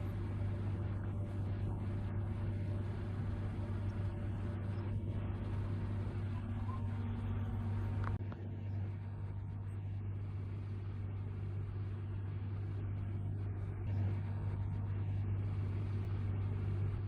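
A tractor engine runs while seed drilling at the end of planting season, giving a steady low droning hum with a constant rumble underneath, continuous and moderately quiet throughout.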